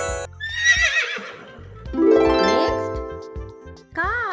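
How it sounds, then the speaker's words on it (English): A horse whinnies in a long, high, wavering neigh. A second rising and falling call follows, clear and prominent over a steady, rhythmic musical backing. "Horse"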